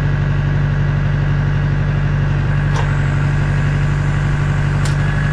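Tractor engine held steady at 1300 rpm to drive a log splitter, a constant low droning idle with an even rumble and two faint clicks near the end, no talking.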